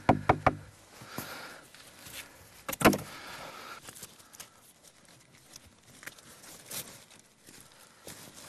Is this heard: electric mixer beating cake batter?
no